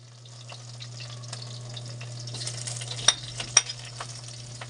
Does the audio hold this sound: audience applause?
no